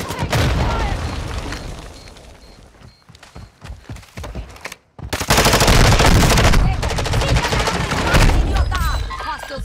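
Video game gunfire in Warzone, with bursts of automatic fire and loud booms, a quieter stretch of scattered shots, then sustained heavy shooting; a player talks over it.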